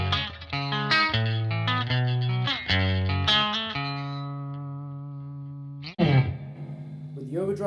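A clean electric guitar with no effect pedals plays a riff, sustained picked notes and arpeggiated chord shapes, close and clear, ending with a final ringing note and a short strum.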